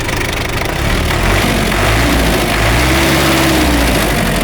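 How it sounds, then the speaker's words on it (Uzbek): A 1990 Belarus 82.1 tractor engine in Mingbuloq, Namangan runs steadily at close range, loud and continuous with a deep low rumble and a slight rise in pitch as it is revved, with no talking. "traktorimiz yurib turibdi, traktorimiz qizidi"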